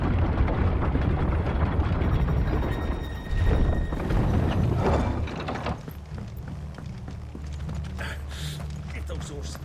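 In Final Fantasy XVI, horses clip-clop in the game world with mechanical clanking and rumbling around them, a dense, busy mix that grows quieter partway through, with voices talking over it.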